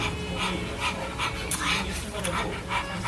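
A dog pants in quick rhythmic breaths and whimpers softly, close by, with a person's voice talking over it.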